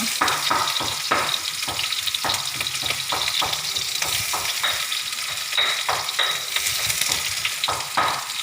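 Pork neck and garlic stir-fry in a hot pan with a loud continuous sizzle and frequent clattering strokes of the spatula, busy and close throughout, with no talking.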